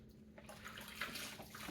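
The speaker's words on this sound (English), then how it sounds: "rinsing and wiping, rinsing and wiping" Hot water runs steadily from a tap as Dyson V11 vacuum parts are rinsed, a faint continuous splashing hiss with slight shifts as the parts move under the stream.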